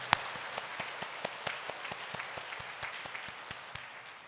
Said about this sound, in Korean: 우리 하나님께 박수를 영광 올려드리겠습니다.